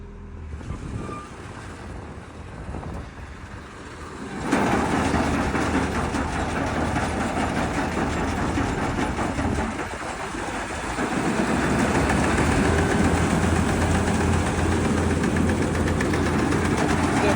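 A Claas Dominator 48s combine harvester engine idles at first, then surges louder and keeps running with a steady, heavy rumble and rattle.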